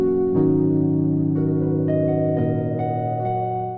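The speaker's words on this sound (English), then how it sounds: "Very nice sounding piano sound." A soft, faded-keys style piano from Splice Instruments plays sustained chords that change every second or so, warm and mellow, ringing out alone before the last chord fades.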